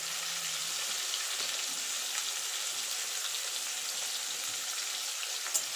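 Potatoes fry in hot oil with turmeric and salt for a Bengali mutton curry, giving a steady, even sizzle with a faint crackle. The hiss stays close and constant, with no talk.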